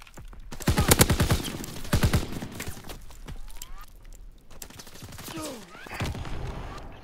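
Rapid automatic gunfire rattles in loud close bursts in Call of Duty: WWII multiplayer, followed by quieter scattered shots, whistling tones and ambient battle noise.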